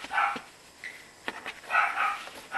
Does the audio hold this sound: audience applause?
no